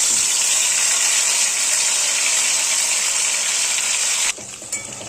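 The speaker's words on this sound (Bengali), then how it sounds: "এইবার আমি এর মধ্যে যে পেঁয়াজ আদা রসুন পেস্ট করে রেখেছি সেটা আস্তে আস্তে এর মধ্যে ছেড়ে দিচ্ছি" Onion, ginger and garlic paste hitting hot oil in a pan while cooking sardine fish kosha gives a loud, continuous bright hiss. The sizzle holds steady, then drops sharply to a quieter crackle near the end.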